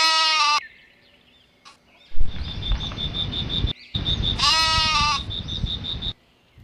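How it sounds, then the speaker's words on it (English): Goats bleat loudly in a few quavering calls, with steady broadband noise and a repeating high chirp running between and under them. "G is for goat."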